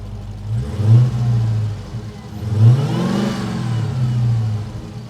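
A powerful 700 hp car engine revs up twice in quick succession, roaring loudly up close before settling back between bursts.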